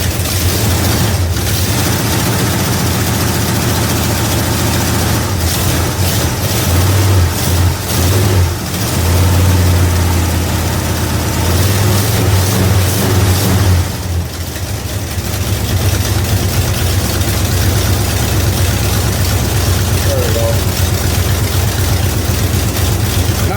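A 1971 Dodge Demon V8 runs steadily after a cold start, with a header exhaust leak. The engine sound is loud and continuous, with a few brief revs partway through and a rough, uneven idle, and there is no talking.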